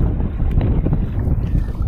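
Wind gusts across a lake during a canoe-camping trip in the Vérendrye wildlife reserve, a loud, close buffeting roar against the microphone with faint splashy water texture, no voices.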